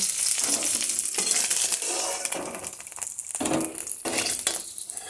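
Chopped onion and green chilli fry in a pan with salt and turmeric, a close crackling sizzle broken up by scraping, stirring strokes.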